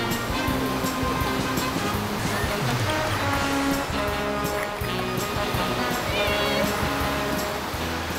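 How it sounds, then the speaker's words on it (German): Atlantic ocean waves breaking on the Moroccan coast where people are surfing, a loud continuous roar of surf with wind rushing across the microphone. "Tanja und Nina kämpfen tapfer gegen marokkanische Atlantikwellen."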